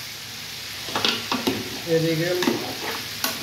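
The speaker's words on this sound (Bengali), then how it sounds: "মাংসগুলো দিয়েছি, দেখুন বন্ধুরা। মাংসগুলো কষাইতে আছে" Chicken pieces are stir-fried with spices in a pan, with sizzling and scraping stirs of a spoon, close up, while a voice speaks briefly over the cooking.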